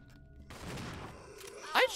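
A gunshot from Resident Evil 0 with a sharp crack and ringing tail near the end, over a steady bed of game ambience and a preceding rush of noise; close and fairly loud, with no talk over it.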